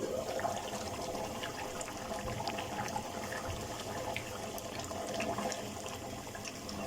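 Water steadily poured into a pan of chicken korma gravy, a continuous close rushing splash with no talking.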